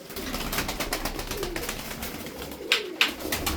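Tumbler pigeons, including a blue mirror-tail female, coo in low, soft, rolling murmurs with a couple of sharper flutters or bumps near the end, fairly quiet and steady, with no talk.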